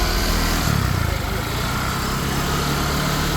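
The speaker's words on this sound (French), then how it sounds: "Vous voyez, il y a toujours une moto qui s'en vient." A small motorcycle engine drones steadily as a bike rolls past on a busy street in Vietnam, its buzz rising slightly and then holding, with someone talking over it.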